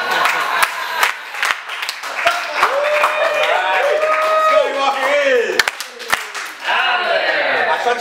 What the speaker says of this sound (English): Why don't you stop clapping